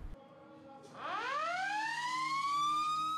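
An emergency siren winds up and rises steadily in pitch, loud and close, after a brief quiet stretch, the wail sustained and climbing to the end.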